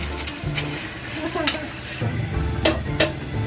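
Hotdogs fry in a pan for spaghetti, with steady sizzling, spatula stirring scrapes and a few clinks of utensil on metal, continuous and close throughout.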